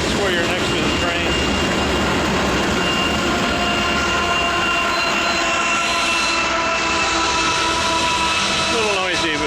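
A train rolls past right beside a trail down by the railroad tracks, a loud, steady rumble of wheels and cars with faint metallic squeals, continuous and close throughout.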